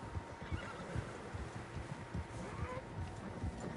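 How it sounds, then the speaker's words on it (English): Several horses whinny and neigh amid a dense patter of clip-clopping hooves in the open world of Red Dead Redemption 2, the sounds steady and moderately loud throughout. "Horses, quite a few of them."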